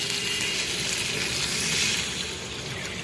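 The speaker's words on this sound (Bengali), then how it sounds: "এখন একটু জল দিয়ে দিই।" Water is poured into hot fish curry in a kadai, a continuous close hiss and splash of liquid over sizzling oil that softens slightly toward the end.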